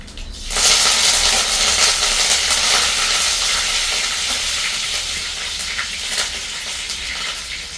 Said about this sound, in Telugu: కమ్మగా ఇప్పుడైతే కరివేపాకు వేసుకుందాం